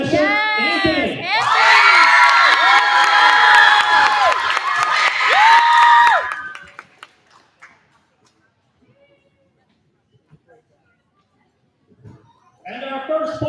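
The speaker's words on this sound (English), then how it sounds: "please give a nice big applause for our second place finisher" A school geography competition crowd, many of them children, cheers, whoops and shouts loudly for a second place finisher for several seconds, then falls almost silent before a voice starts up again.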